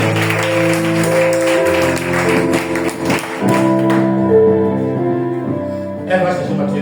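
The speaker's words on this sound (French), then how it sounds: "On acclame le Seigneur." A church congregation claps during an evangelical sermon, several rhythmic claps mixed with musical tones and voices, fairly loud and close.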